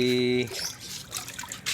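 Leftover water from a snake plant pot is poured out in a short, close trickle and splash, following a brief tone and heard under casual talk.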